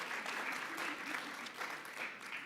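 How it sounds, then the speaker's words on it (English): An audience at a panel discussion on democracy claps in a full, sustained round of applause, steady and moderately close with uneven surges throughout. "Can we please give one more round of applause for this excellent conversation?"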